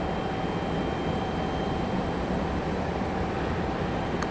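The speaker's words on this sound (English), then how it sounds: "Up next, we do have our Delta connection, CRJ, coming in from Nashville." A Delta Connection CRJ regional jet arriving at Raleigh-Durham airport produces a steady, loud broadband jet roar with no pauses, heard without any voices.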